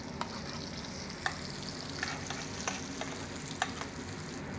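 A fish sizzles gently in hot butter in a pan as it is basted, a quiet, continuous frying hiss dotted with small, faint clicks and spoon taps.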